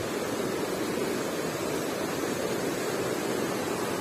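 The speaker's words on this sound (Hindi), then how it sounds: "ये नीचे नाला बह रहा है" Stream rushing below a swaying footbridge in Kalash Valley, Chitral, Pakistan, a steady broadband wash of flowing water that runs unbroken and fairly loud throughout, with no talk over it.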